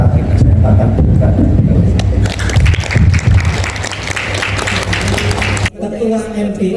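An audience applauds at an Indonesian teachers' appreciation event. Loud, dense clapping fills about six seconds with voices mixed in, then stops abruptly.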